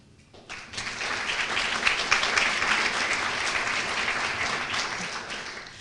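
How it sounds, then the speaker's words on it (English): An audience at an awards luncheon applauds, the clapping swelling quickly after a quiet start and continuing steadily and loudly. "Audience looks around and applauds."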